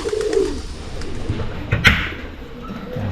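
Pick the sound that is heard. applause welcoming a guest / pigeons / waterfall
pigeons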